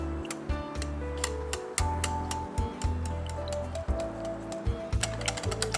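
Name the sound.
mixing takoyaki batter with eggs and dashi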